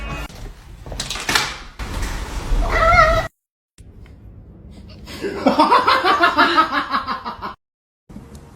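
A cat meows in several loud, drawn-out calls, with a short gap of silence between bursts and another break near the end, mixed with scuffling noise.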